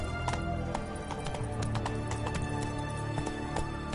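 Horse hooves clip-clop steadily in Witcher 3, a dense rhythmic stream of hoofbeats mixed with game ambience and music, with a brief whinny.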